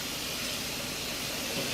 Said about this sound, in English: I'm going to quickly hit it with cold water